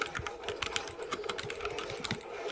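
Quick, uneven clicks of computer keyboard keys pressed during a Fortnite game, close and fairly soft, with no talking.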